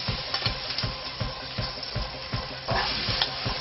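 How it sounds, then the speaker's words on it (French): Onions frying in oil in a pan, a steady broadband sizzle with faint rhythmic stirring or scraping taps running through, close and fairly quiet, no talk. "Alors, on met les oignons dans l'huile."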